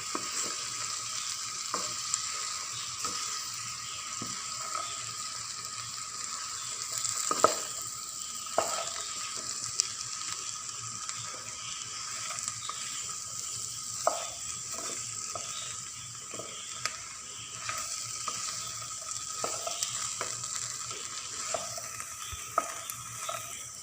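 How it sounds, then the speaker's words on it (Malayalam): Fried soybean chunks mixed with tomatoes in a hot pan hiss in a steady, bright sizzle, with regular scraping and tapping of the spatula as they are stirred. "നമുക്ക് ഇതിലേക്ക് പൊരിച്ച് വെച്ച സോയാബീൻ ചേർത്ത് കൊടുക്കാം. നന്നായിട്ട് ഇത് മിക്സ് ചെയ്യാം."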